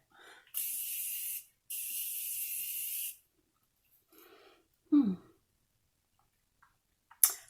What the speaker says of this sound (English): I'm going to set my face with my Morphe Continuous Spray, setting this right here.